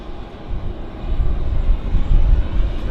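An aircraft engine drones at Vancouver Airport, a loud, steady low rumble that swells slightly and holds throughout, with no talk over it.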